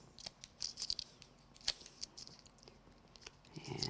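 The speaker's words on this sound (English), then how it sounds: "Let me just peel off the backing." Backing paper is peeled off mounting foam on a craft project, giving quiet, close crackling and ticking paper sounds in short bursts.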